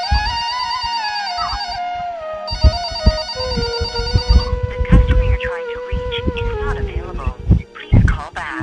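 A phone call rings with a repeating electronic ringtone, then the ringing continues under a voice and background music on a TV show set.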